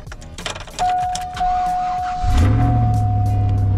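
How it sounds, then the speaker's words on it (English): A truck engine is cranked and catches: clicks and keys, then a steady whine, then the engine fires into a loud, even idle up close. "let's see if the truck starts."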